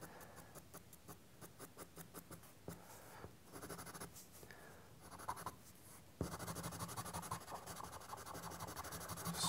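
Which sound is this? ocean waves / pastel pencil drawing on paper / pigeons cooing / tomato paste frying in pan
pastel pencil drawing on paper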